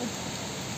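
Heavy rain pours down in a steady broadband hiss, close and unbroken for the whole brief moment.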